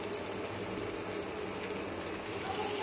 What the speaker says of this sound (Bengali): তো চলো মিক্সির বাটিটা একটু ধুয়ে দিই।